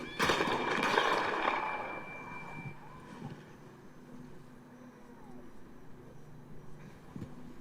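A horse whinnies loudly at the start in Red Dead Redemption 2, fading into quieter rumbling ambience with faint hoof-like clops and distant mechanical noise.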